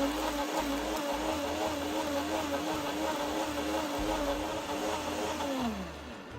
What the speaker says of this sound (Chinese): 开启搅拌器，将食材搅成糊状。